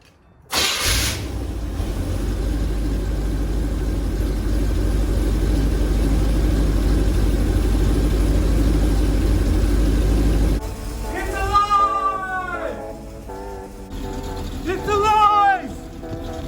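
A Chevy 350 V8 that had sat unused for many years cranks and fires, then settles into a loud, steady close idle, leaking fuel as it runs, with excited voices talking over it toward the end.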